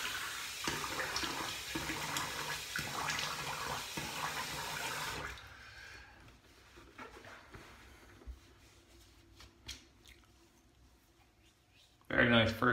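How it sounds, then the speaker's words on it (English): Water runs steadily from a tap as a shaver rinses after a first pass with a double-edge safety razor. It stops about halfway, then quiet shuffling and faint clicks follow before a short loud burst near the end. "Let me rinse"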